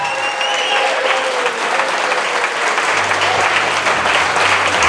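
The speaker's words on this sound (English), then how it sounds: "Everyone, give a big round of applause for Alexia and her dad," Wedding guests applaud for the bride and her father in a dense, sustained round of clapping that stays loud throughout, with a low musical hum coming in partway through.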